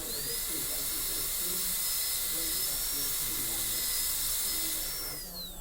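High-speed dental drill whining steadily with its bur cutting a tooth preparation, the pitch dipping and rising slightly as it loads, while a voice talks quietly underneath.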